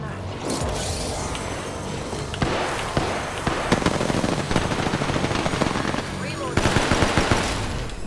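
Dense automatic and burst gunfire from the Apex Legends video game, Season 7, rattles continuously with sharp transients, intensifying toward the end, with a voice briefly speaking under the shooting.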